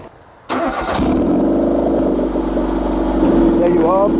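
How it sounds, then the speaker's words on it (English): A Raffo Belva kit car engine cranks and catches at once, settling into a steady loud idle close by with a slight rev near the end. "I'm going to start the car up"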